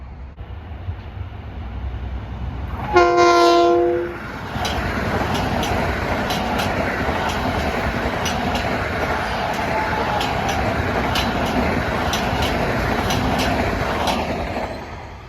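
An LIRR M7 electric multiple-unit train passes at speed at Pinelawn, a loud, steady rush of wheels and air lasting over ten seconds, with a brief horn-like tone near the start and rhythmic clicks of wheels over rail joints.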